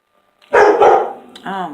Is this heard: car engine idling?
no